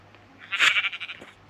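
A sheep bleats once in the Minecraft video game, a short wavering digital cry that is fairly faint and stands alone over a quiet background.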